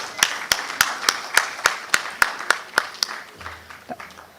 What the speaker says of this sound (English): Let's give Anshuman a big round of applause.